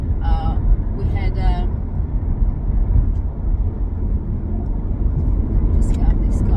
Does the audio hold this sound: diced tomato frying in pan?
no